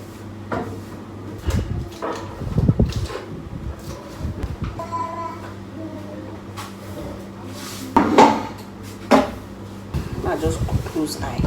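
Dishes and a blender are washed at a kitchen sink, with intermittent clunks, knocks and rattles of items being handled, mixed with running noise and a person talking.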